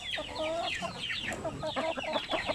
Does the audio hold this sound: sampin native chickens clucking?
yes